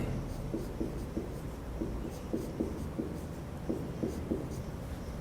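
Chalk or marker writing on a board during a chemistry lesson, a series of short scratchy strokes in an irregular rhythm, fairly close and clear over a low room hum, with no talking.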